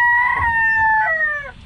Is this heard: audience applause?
no